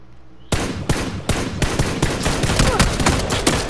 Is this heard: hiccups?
no